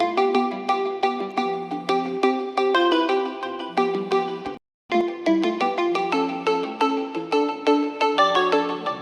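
A melodic phone ringtone plays loudly and repeatedly in a bright, plinking pattern, with a brief silent gap midway before it resumes.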